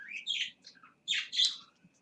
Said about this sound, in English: Hey, birds, chill out.